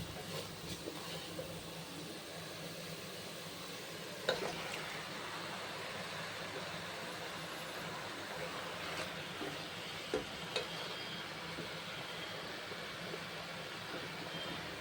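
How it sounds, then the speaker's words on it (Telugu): Chicken sizzles in a hot pan for a chicken gravy curry, giving a steady, even hiss throughout with a few small pops. "ఇప్పుడు ఇందులో మనము తీసుకున్న చికెన్ వేసుకుందాం."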